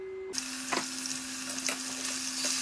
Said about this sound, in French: Maintenant, on va frire la viande.